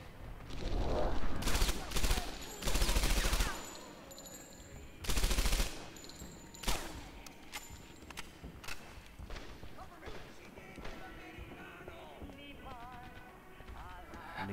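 Gunfire in the World War II shooter Medal of Honor Airborne: several loud bursts of rifle and machine-gun fire in the first seconds, then scattered single shots under ongoing game audio and someone talking.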